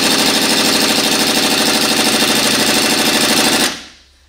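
An air impact gun hammers rapidly at a harmonic balancer bolt during a timing belt job, running short of air supply; a loud, continuous rattling burst lasts several seconds, then cuts off abruptly.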